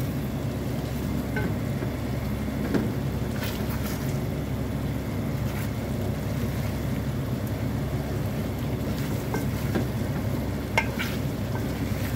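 Chicken caldereta is stirred in a pan, soft scraping and bubbling sizzle running steadily at low volume, with occasional faint clinks of the utensil against the pan.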